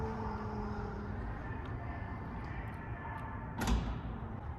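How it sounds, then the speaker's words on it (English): The electronic tailgate of a 2021 Mercedes GLS 580 SUV closes with a steady motor hum that ends in a single soft thud as the hatch latches, heard alone. "You do have the electronic trunk close right here."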